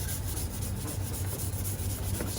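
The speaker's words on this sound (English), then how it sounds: "So sand the rest." Hand sanding a Honda VFR800 motorcycle fairing during paint prep gives a steady, continuous rubbing rasp with no breaks, close and moderately loud, with no voices.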